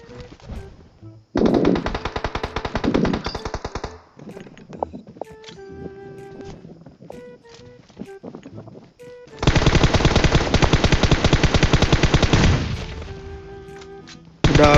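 Rapid machine gun bursts in PUBG Mobile rattle in two long sustained volleys with scattered single shots and in-game clatter between them, loud and close.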